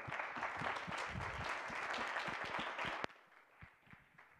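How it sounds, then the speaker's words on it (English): A campus lecture audience applauds with dense, steady clapping for about three seconds, then it cuts off abruptly, leaving a few scattered, fainter claps. "Round of applause."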